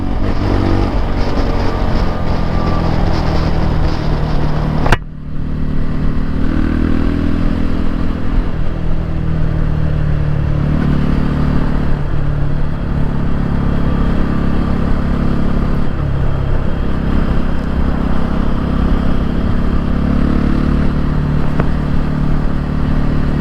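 A Voge 250RR motorcycle with its exhaust removed revs loudly and close by, a raw, blatting engine roar that holds steady with repeated throttle swells and a sharp blip around the fifth second.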